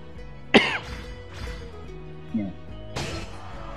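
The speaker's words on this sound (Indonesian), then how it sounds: "Saya ini akan batuk dulu." A person coughs close to the microphone: one sharp, loud cough, then softer follow-up coughs and a throat-clearing sound, with quiet game audio of Pokemon Unite Mobile in the background.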